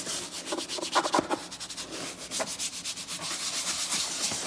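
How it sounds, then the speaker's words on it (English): A brush scrubs plastic car interior trim worked into a foaming natural dashboard cleaner, giving steady close rubbing strokes in quick repeated bursts with no talking. "just simply scrub in with the brush, like so, creating a really nice foam action as you go"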